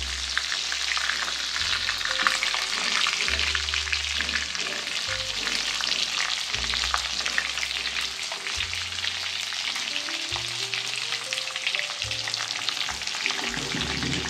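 Spiced eggplant mixture sizzles and fries steadily in a hot pan for Maharashtrian vangyachi bhaji, a dense continuous crackle with faint stirring scrapes, close and alone with no talk.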